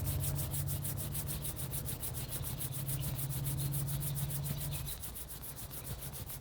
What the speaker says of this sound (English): Again rub your palm.